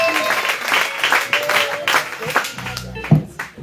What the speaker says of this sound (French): Acclame le Seigneur pour le Seigneur Jésus.